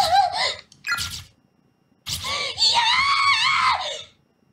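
A voiced character in the horror video game Corpse Party lets out loud, anguished screams in several bursts, the last long and wavering, separated by brief silences.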